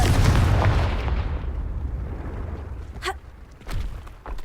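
Confringo fire spell in Hogwarts Legacy: a heavy booming blast up front that rumbles and decays, followed by a couple of sharp crackling magical bursts and a faint thud.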